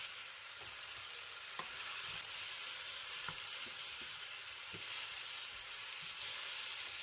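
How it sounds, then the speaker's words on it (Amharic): Tomatoes frying in a pan with onion and potatoes give a soft, steady sizzle, with scattered light stirring clicks and scrapes throughout, close and fairly quiet, with no voices. "ቲማቲሙን 1-2 ደቂቃ እንጠብሳለን።"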